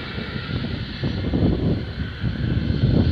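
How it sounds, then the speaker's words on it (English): A jet airliner such as a JetBlue plane flies near runway 10R at Fort Lauderdale–Hollywood International Airport, a broad, steady engine roar with some wind buffeting, moderately loud and sustained from a short distance. "This is a plane over there."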